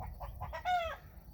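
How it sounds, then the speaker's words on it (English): A hen with newly hatched baby chicks on a Texas homestead farm gives a few soft clucks, then one longer drawn-out call, close by over low background rumble. "We've got a hen that's hatching out eggs, and you see she's got a couple baby chicks here already."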